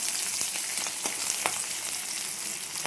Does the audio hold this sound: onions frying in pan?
yes